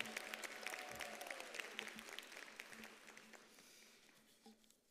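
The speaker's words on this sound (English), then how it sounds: "Let's give a warm round of applause and a DUT welcome to Ms. Tembi Mchali Jones." An audience at a university graduation ceremony gives a round of applause to welcome an honorary degree recipient. The clapping is fairly faint and distant and tapers off over a few seconds.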